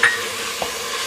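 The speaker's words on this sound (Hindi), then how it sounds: "मैं इस मसाले को अच्छी तरीके से भून लूँगी" Masala with turmeric and garam masala, loosened with a little water, fries in a pan with a faint continuous sizzle and a soft stirring scrape, over about a second with no talking.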